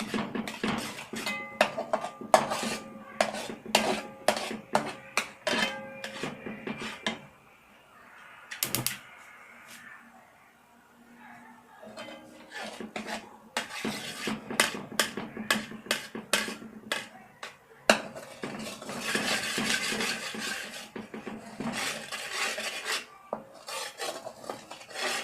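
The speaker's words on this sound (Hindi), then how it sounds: "अब इसको हम लम्स ना बनने, इसलिए अच्छी तरीके से चला लेंगे, मिक्स कर लेंगे।" A liquid milk powder mixture for khoya (mawa) is stirred in a pan, giving repeated scraping and rubbing strokes in uneven bursts with a quieter stretch midway, close and fairly loud throughout with no talking.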